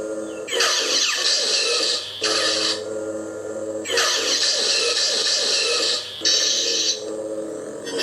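Lightsaber blaster block effects, repeated bursts of harsh crackling sizzle over a steady low hum, each block lasting a second or more with brief gaps between them, loud and close.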